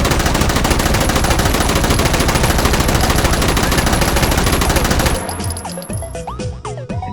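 PPSh submachine gun in H3VR fired on full auto, a dense unbroken stream of rapid shots for about five seconds, then the burst stops and brief mechanical clatter and handling noises follow.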